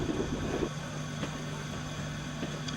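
A Peak Rail heritage train at Darley Dale rolls over a level crossing into the station, producing a steady, fairly loud mechanical drone with a low engine hum and faint clunks underneath.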